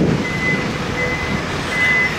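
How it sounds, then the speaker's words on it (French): A truck's reversing alarm beeps three times at an even pace over a low engine rumble, in Toronto as rain begins to fall. "il y a un camion qui est en train de reculer devant moi"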